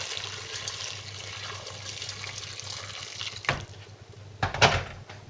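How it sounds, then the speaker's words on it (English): Boiling water pours into a casserole of carrots and celery for a British beef stew, a steady running-water wash with a couple of sharper splashy bursts near the end. "cover them with boiling water"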